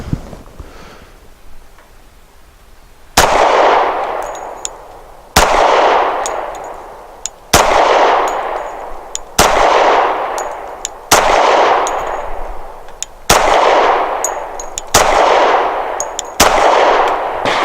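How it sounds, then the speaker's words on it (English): A Rock Island 1911 Ultra CCO .45 pistol fires seven loud, sharp shots at a target, spaced about two seconds apart, each report ringing out briefly outdoors. "this will be a little bit slower shooting just because I'm going to shoot at an actual target this time."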